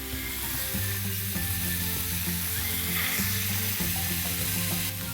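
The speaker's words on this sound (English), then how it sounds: "now we're just going to cook the paneer on both sides for at least 2 minutes each" Paneer cubes sizzle steadily as they fry in a pan for a dhaba-style paneer masala, a continuous close crackle broken now and then by soft stirring or shifting of the pieces.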